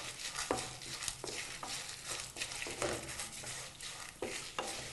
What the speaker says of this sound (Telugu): ఈ ఎండుమిర్చి కూడా ఆయిల్లో ఫ్రై అవ్వాలి లైట్గా.